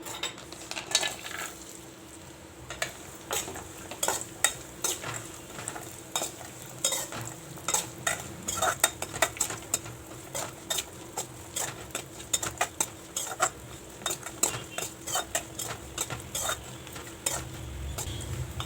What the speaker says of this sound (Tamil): தேங்காய், முந்திரி, திராட்சை, இதை நல்லா நெய்யில் வறுத்து எடுத்துக்கலாம்